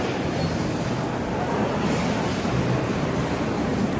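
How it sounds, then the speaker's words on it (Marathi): A train rumbles past nearby in a steady, dense roar of wheels and carriages, loud and unbroken for the whole stretch. "बघा ट्रेन कुठली आली"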